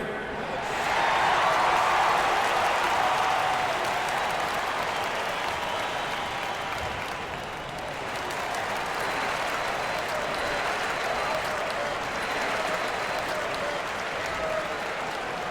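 A large arena crowd at an NBA preseason basketball game, Timberwolves vs 76ers, roars and cheers continuously, a broad wash of noise that swells early, dips briefly, then rises again.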